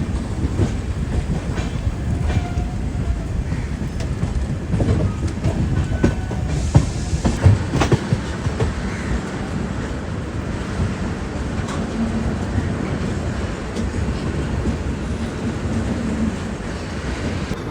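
An Indian Railways train running out of Ahmedabad toward Vadodara gives a close, steady rumble with faint clickety-clack of wheels on rail joints, holding at an even loudness throughout with no voices.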